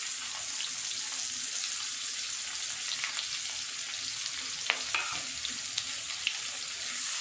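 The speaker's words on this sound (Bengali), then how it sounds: "পেঁয়াজটা খুব ভালো করে ভাজা করে নেব।" Chopped onions fry in oil in a pan just used for frying fish, giving a steady, close, even sizzle with a few sharper crackles and clinks scattered through it.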